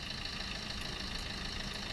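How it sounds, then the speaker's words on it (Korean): A steady, low engine idle rumbles without pause, even and unchanging, with a faint high hum layered over it. "그래도 공회전 소리라고 하니까"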